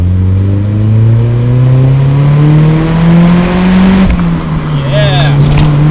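Deep exhaust rumble from a Mazda Miata with an aftermarket exhaust while driving, a loud steady engine drone with a slight rise in pitch, briefly shifting near the end as speech starts over it.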